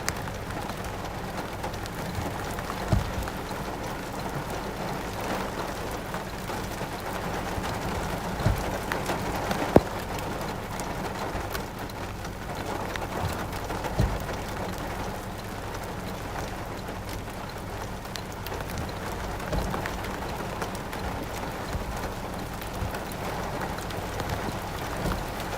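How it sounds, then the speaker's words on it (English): Rain pours steadily during an Oklahoma storm with hail reported, a dense continuous patter with a few sharper impacts standing out, close and even throughout, no voices. "I think there's some decent sized hail coming in that."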